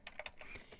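Several quick keystrokes on a computer keyboard, about six light clicks in under a second, close and quiet.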